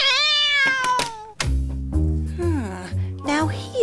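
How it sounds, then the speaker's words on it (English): A cartoon cat lets out a loud, drawn-out meow, then further yowling cries follow over dramatic animated sound effects and music. "The cat!"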